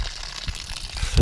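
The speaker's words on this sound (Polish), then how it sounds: "Patrzcie, jak ładnie leci woda." Water gushes and splashes briefly from a freshly mounted rain gutter on a foil polytunnel, a short close rush with no talking.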